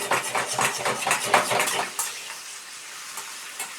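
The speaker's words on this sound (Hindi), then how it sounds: "ये मटन जी इसे ऑयल में अच्छे तरीके से हम थोड़ा सा फ्राई करेंगे 5 से 7 मिनट।" Mutton fries in oil in an iron karahi, giving a loud sizzle with rhythmic scraping and stirring clatter that thins to a softer sizzle and occasional clinks, with no voices.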